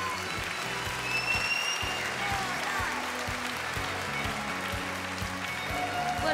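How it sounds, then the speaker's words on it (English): Audience applause at the Miss Supranational 2010 crowning pageant, welcoming Miss Supranational 2009 Oksana Moria; steady, moderately distant clapping fills the hall, with an announcer's voice and music faintly underneath. "Please, huge applause for Oksana Moria"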